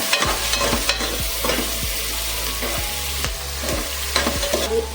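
Onions fry in hot oil with a steady sizzle, while a spoon scrapes and stirs the pan in regular strokes about once every half second. It is close and there is no talking.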